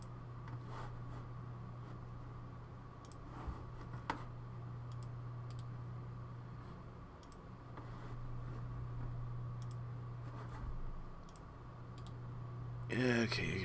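Light computer mouse clicks while installing content into DAZ Studio 4 on a PC, a dozen sparse, soft taps over a steady low electrical hum, ending with a brief louder rustle.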